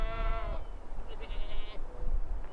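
A goat gives a loud, wavering bleat up close, followed by a shorter second bleat, with faint outdoor background noise.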